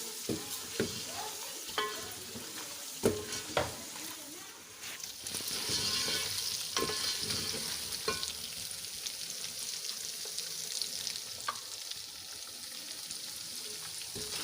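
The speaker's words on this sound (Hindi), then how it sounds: "तो इसको अच्छी तरह मैं भून लूँगी" Beef being stirred and fried in a pot for Sindhi biryani: several sharp scraping strokes early on, then a steady, bright sizzle that carries through the rest.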